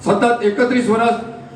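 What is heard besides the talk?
No everyday noises stand out.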